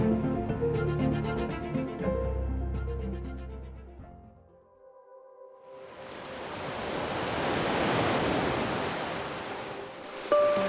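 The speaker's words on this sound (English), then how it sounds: "Tonight, we let the ocean sing us to sleep." After a stretch of music fades out, a broad wash of ocean surf in Sri Lanka rises and swells, steady and enveloping, with no talking.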